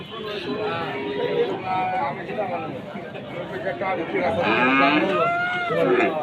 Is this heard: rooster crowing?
no